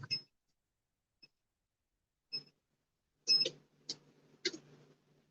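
A sublimation heat press timer beeps after pressing a coffee mug: a few sharp electronic beeps, close and fairly loud, following a stretch of near silence with faint handling sounds.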